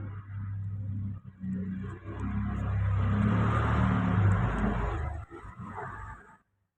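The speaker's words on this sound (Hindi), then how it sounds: "अब आधा इंच रखते हुए सिलाई लगाएंगे।" A sewing machine stitches a princess cut blouse with a half-inch seam allowance, running as a steady loud motor hum for most of the stretch with brief pauses before stopping.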